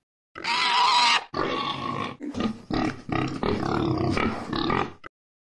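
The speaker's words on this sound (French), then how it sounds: "Les cochons communiquent entre eux par des cris, des couinements et des grognements." Loud, close pig grunts and harsh squeals in several bursts, one long squeal first, then a run of rough snorting grunts.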